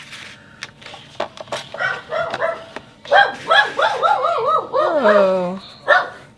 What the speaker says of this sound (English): something got our visiting puppy dog excited upstairs